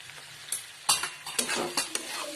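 Flat ghevda beans frying over a high flame, with a steady close sizzle broken by several sharp scrapes and clatters of a spoon stirring against the pan.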